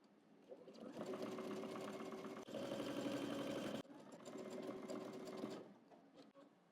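A home sewing machine stitches a garment seam along a 3/8-inch guide in three close, steady whirring bursts separated by brief pauses, with no talking.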